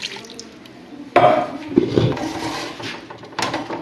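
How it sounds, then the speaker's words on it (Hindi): Water is poured into a pressure cooker holding beef for a white qorma, a short splashing burst that quickly settles into softer trickling and light clatter of the pot. "और आधा गिलास के बराबर हम इसमें पानी डालेंगे"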